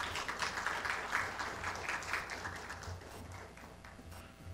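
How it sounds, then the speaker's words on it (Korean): An audience claps steadily at a 60th founding anniversary ceremony, a moderate, even patter that slowly fades over several seconds. "다시 한번 큰 박수를 부탁드리겠습니다"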